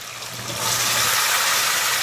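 Water pours into a hot pot of pork locrio cooking over a lowered flame, a loud broad hiss and rush that swells after half a second and stays steady to the end.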